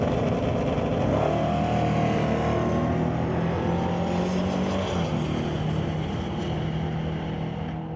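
Drag race at Mission Raceway Park between a Chevrolet S10 and a 1993 Ford Mustang Fox Body: loud, sustained engine roar from both cars throughout, rising in pitch as they accelerate down the strip, with no talk audible.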